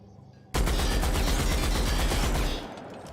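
A weapon in the video game The Outer Worlds unloads in a sudden, loud burst of rapid automatic fire, the rounds running together for about two seconds before cutting off abruptly, with no talk over it.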